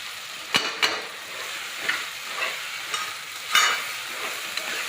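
Shallots sauté in a pan for a homemade biryani, a soft steady sizzle broken by a few sharp clinks and scrapes of a spoon stirring against the pan.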